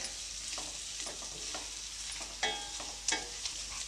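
Potatoes coated in masala sizzle softly in a frying pan for aloo fry, with a steady low hiss under scattered scraping strokes from stirring and a few sharper clinks of the utensil.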